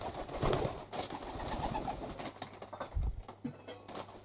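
Pigeon moving restlessly about indoors in a warm cottage, giving soft cooing calls and bursts of wing flutter, close by, with no voices.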